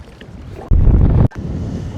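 Gusty wind roars across an open-water microphone on a reservoir, surging loudly for a moment mid-clip before settling back to a steady rushing background.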